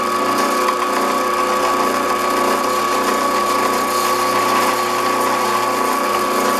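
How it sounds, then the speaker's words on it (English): A 3/8 inch Forstner bit bores a flat-bottomed hole in a small cockpit trim wheel part, giving a steady, loud, continuous whine with a constant pitch and no talk over it. "That is a 3/8 inch Forstner bit, which drills flat bottomed holes very nicely."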